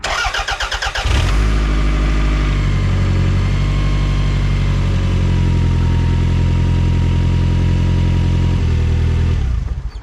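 A 1996 Toyota Camry, just given a distributor o-ring repair and minor tune-up, cranks briefly and fires, then settles into a steady, loud idle close by for several seconds before the recording cuts off.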